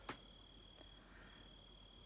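Crickets chirp at night in a steady high, thin trill, faint and continuous, with a soft click near the start and no talking.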